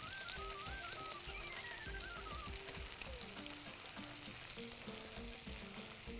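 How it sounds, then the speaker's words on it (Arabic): Food frying in butter in a pan while being stirred, a steady close sizzle and crackle throughout with light scraping, and background music playing underneath. "نقلب كده كلها."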